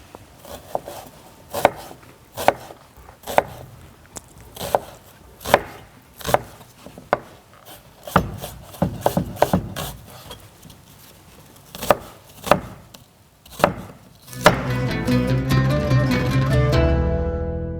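Onions are chopped with a knife on a board while preparing palov, with steady, crisp chops close by that quicken toward the end, followed by a loud, continuous sizzle from hot oil in a kazan.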